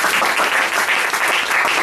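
Brief burst of dense applause from a church congregation during a sermon, steady and loud for the whole short stretch.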